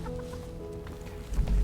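Chickens clucking in the video game Beast of Reincarnation, a brief burst of low, throaty clucks mixed with other game sounds.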